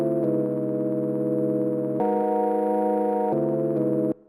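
Held synth chords sustain smoothly, shifting to a brighter chord midway and then back, with no rhythm or percussion, before cutting off.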